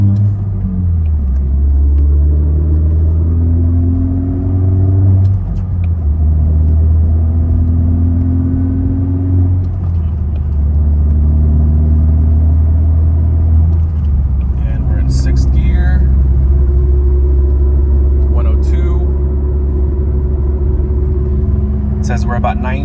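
A 4th-gen Mazda fitted with a Corksport short ram intake and cold air box accelerating toward 60 mph, a loud, low in-cabin engine drone rising through the gears under a voice.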